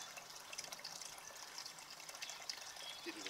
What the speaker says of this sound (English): Just going to top up the water from the water butt.